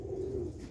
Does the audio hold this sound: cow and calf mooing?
no